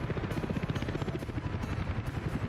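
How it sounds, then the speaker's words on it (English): Helicopters in the city-building game Workers and Resources, a steady loud rotor thrum with rhythmic low chopping and some higher whine, continuous throughout. "I hear the helicopters."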